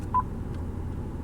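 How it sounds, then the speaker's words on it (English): A single short electronic beep from a 2015 Honda Accord LX infotainment system, clear and close, over a faint low hum. "Let's see, there's the beep."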